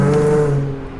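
Ford Mustang engine running close by, a steady low rumble with strong harmonics that holds for about half a second, then fades and drops away.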